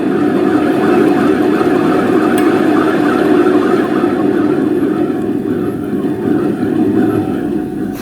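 A 2-stroke ATV engine with dry, unlubricated bearings runs at a steady, loud, close idle, a continuous rough drone with a metallic grinding edge and no pauses.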